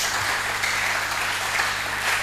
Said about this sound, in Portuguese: Aplaudimos para o Senhor Jesus.